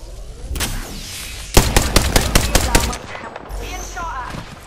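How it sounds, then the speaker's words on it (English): Rapid automatic gunfire from an Apex Legends firefight, a loud burst of about ten sharp shots packed tightly together, framed by softer scattered game noise before and after. "Being shot at. Firing."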